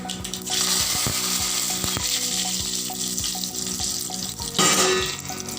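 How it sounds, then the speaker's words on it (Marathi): Cumin, mustard seeds and curry leaves crackle and sizzle in hot tadka oil for khandavi, a steady frying hiss with sharp seed pops, growing louder near the end as more spices drop in; no talking. "तडका तयार केला आहे मी, त्याच्यामध्ये थोडं अजून जिरं मोहरी टाकते, कढीपत्ता टाकूया त्याच्यामध्ये"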